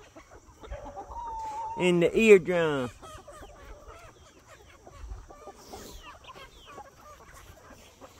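Chickens on a homestead give a burst of loud, close clucking and squawking lasting about a second, over scattered softer farmyard noise. A person speaks nearby before and after the calls.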